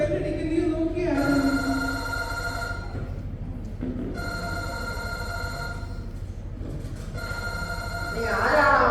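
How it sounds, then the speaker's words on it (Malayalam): A telephone rings in a Christmas carol skit, its harmonic tones sounding in three repeated bursts of about two seconds each over a steady background hum and murmur. "സിന്ധുവിന്റെ ഫോൺ ബെല്ലടിക്കും, നീ നോക്കിയാണ്."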